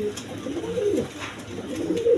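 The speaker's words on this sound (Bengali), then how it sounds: "এখানে এক পেয়ার ডেনিশ কবুতর আছে দেখেন" A pair of Danish pigeons, red-barred birds in a loft, coo steadily with low, throaty, repeated calls close by, no talking over them.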